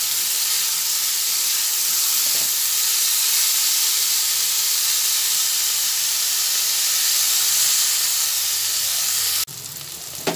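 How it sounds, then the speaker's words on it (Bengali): Bitter gourd fries in a pan, giving a steady, dense sizzle and hiss that holds evenly at close range, then drops abruptly near the end. "এভাবে নাড়াচাড়া করতে করতে উচ্ছেটা ভাজা হয়ে এসেছে"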